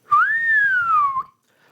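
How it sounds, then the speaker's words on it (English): A man gives a single clear whistle, one smooth sustained tone that rises slightly and then glides downward for about a second, close and alone. "Then he whistled"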